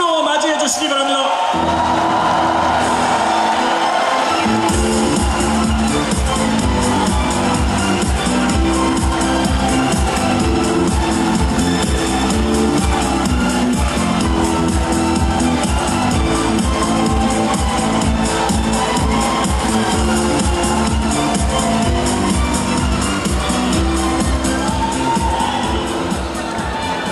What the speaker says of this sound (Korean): 뜨거운 박수로 맞이해 주시기 바랍니다